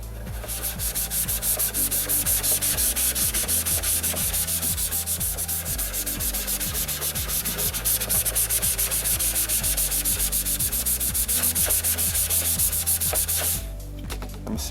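Steady, continuous abrasive rubbing as a gray Scotch-Brite pad scuffs a Mercedes-Benz E55 AMG trunk spoiler before paint, loud and close with rhythmic back-and-forth strokes, ending briefly near the finish.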